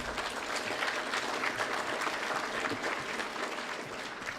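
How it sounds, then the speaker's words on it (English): At a city State of the City event, an audience gives steady applause for introduced guests: a dense, even clapping of many hands that lasts throughout. "Clap as you wish, but rest assured those hearing their names will certainly be paying attention to the intensity of your applause."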